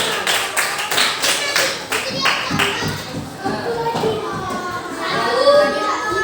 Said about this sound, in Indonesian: Tepuk tangan dulu untuk Mami.